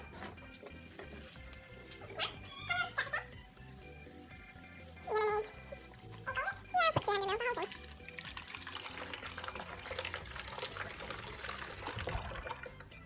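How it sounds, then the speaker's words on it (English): Hydrogen peroxide is poured into a bottle at home for an elephant toothpaste experiment. A steady splashing pour fills the second half, while a cat meows and voices talk quietly earlier. "You're going to pour it in, Ruby."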